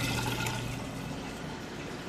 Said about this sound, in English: You can hear it draining that water out nice and fast there.